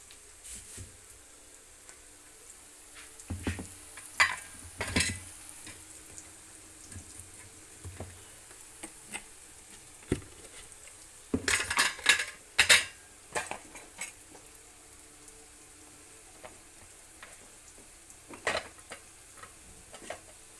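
Ginger garlic paste frying in a pan while a spoon stirs it, with soft sizzling under scattered scraping and clinking of the utensil against the pan, including a denser burst of stirring midway.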